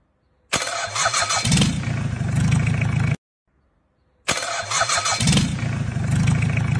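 A car's starter motor cranks the engine twice as the key is turned. Each loud burst of whirring lasts about two and a half seconds and is separated by a short silence.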